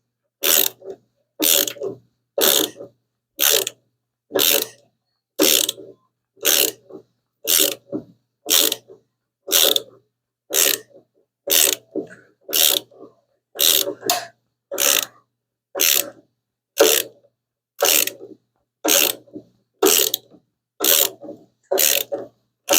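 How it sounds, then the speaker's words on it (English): A hand ratchet clicks in a steady series of about twenty sharp bursts while turning a thread chaser to clear bed liner from bolt threads on a 1975 Hemi Plymouth Duster, close and regular with short pauses between strokes. "I got bed liner on the threads, so I'm doing a chase on it right now."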